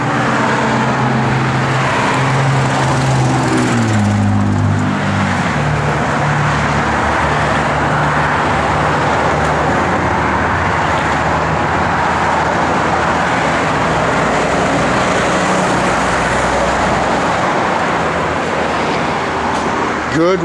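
A 1972 Chevrolet Chevelle SS's 454 engine, running on pump gas, rumbles steadily at close range, with a brief rise in revs near the start and then a continuous even drone.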